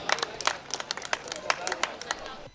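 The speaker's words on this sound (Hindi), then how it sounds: "एक बार जोरदार तालियां भाई कामता माखन के लिए" Audience applause for a poet at a Hindi comic poetry gathering (hasya kavi sammelan): dense, irregular clapping from a crowd, fairly close and steady for the whole stretch, with no talk over it.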